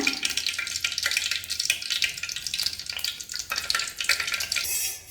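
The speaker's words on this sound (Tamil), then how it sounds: "இது மாதிரி ஊற்றி 2 பக்கமும் நல்லா பொரிச்சு எடுத்துக்கலாம்." Hot oil sizzles and crackles steadily as banana malpua batter fries, a close, continuous spitting with no voices.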